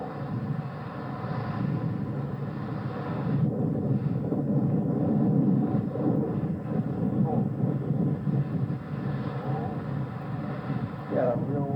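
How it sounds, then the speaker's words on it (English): Strong wind blows steadily outdoors on a hunting outing, a low continuous rumble buffeting the microphone, with a voice briefly heard over it. "Yeah, a real windy day here"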